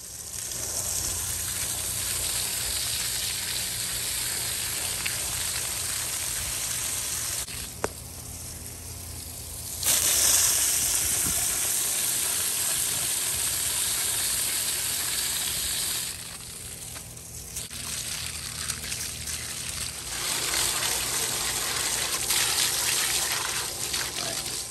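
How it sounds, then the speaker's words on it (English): Steady loud rush of running water as pool vacuum filters from a Hayward SharkVac robotic cleaner are rinsed clean, a continuous hiss and splash with brief dips and shifts as the filters move under the stream. "I'll just take these out real quick, rinse them out, make sure they're cleaned off."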